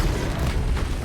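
The Confringo blasting spell in Hogwarts Legacy explodes as one loud, heavy boom that fills the whole second with a rumbling burst.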